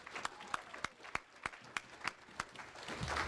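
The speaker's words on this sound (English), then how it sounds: "let's give these guys a round of applause for the state champs right here" A handful of separate, sharp claps at a high school varsity football banquet, spaced unevenly and fairly close, with faint room murmur rising toward the end.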